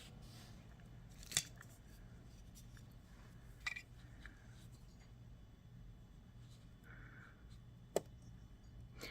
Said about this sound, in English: we'll cut 2 7-inch pieces of leather here